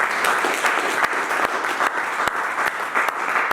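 A church congregation claps in sustained applause, dense and loud with sharp individual claps standing out through the steady roar.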